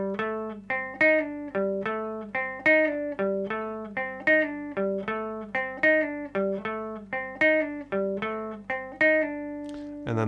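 Short rockabilly guitar phrase played repeatedly in a bouncy, evenly spaced run of plucked notes, clean and close, with no talking.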